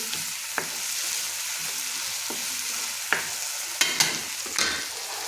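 Onions and tomatoes frying in a pan give a steady broadband sizzle, with a few sharp scrapes and clinks from stirring scattered through it. No one speaks.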